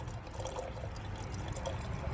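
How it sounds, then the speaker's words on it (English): Gasoline drains from a Tecumseh snowblower carburetor into a jar, a faint, steady liquid trickle and pour with a low background hum, continuous for a couple of seconds. "it's pouring into the jar"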